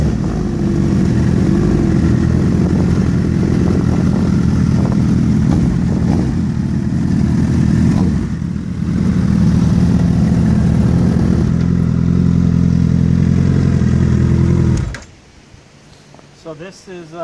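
Sportbike exhausts compared side by side: a 2014 Honda CBR1000RR with a Two Brothers Silver Series exhaust and a 2007 Suzuki GSX-R1000 with an M4 exhaust, baffle removed. Loud, close engine roar for about fifteen seconds with a brief dip midway, then cuts to quiet.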